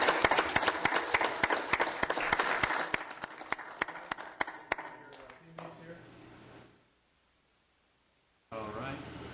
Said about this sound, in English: How about a nice round of applause one more time for all of these young men?